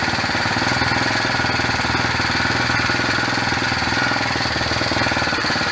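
A trash-picked 4-stroke string trimmer engine runs steadily and loudly up close, its fast, even, rattling idle filling the whole stretch with no talk over it.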